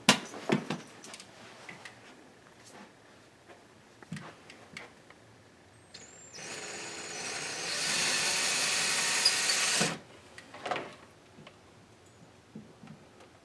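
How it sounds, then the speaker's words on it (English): A power drill whirs steadily for a few seconds as it bores into a wall while a cable box is mounted, surrounded by scattered clicks and taps of handling. "so we're going to take the drill"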